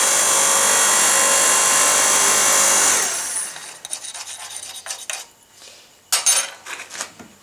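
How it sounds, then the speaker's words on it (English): Slag being knocked and scraped off a fresh weld on a steel electric log splitter forge press build: a loud, continuous harsh grinding rasp for about three seconds, then scattered scraping, rubbing and sharp metallic clinks close up. "See if we can get that bit of slag out."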